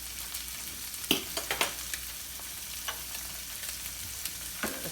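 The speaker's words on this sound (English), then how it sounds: "Let's see how our pasta is boiling." Edamame pasta bubbling in a pot of boiling water on a kitchen stove, a steady soft hiss and simmer with a few scattered clinks and taps of cookware.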